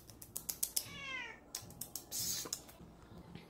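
Cats meowing eagerly as a can of Friskies Salmon Dinner pate is opened, with a few sharp clicks and taps before and between the close, rising meows.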